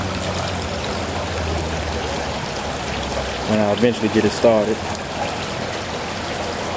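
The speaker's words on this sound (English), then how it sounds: "These are some of the fountains that they have." Garden fountains on display in a large garden store keep up a steady trickling, splashing water flow. Someone speaks briefly partway through, over the continuous water.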